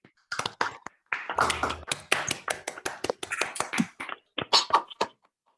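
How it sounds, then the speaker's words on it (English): Scattered online applause after an academic talk at a computational social choice seminar, unmuted participants clapping irregularly in separate bursts, close and moderately loud, with a few sharper taps and no clear talk. "Let's unmute and offer a round of applause to the speaker."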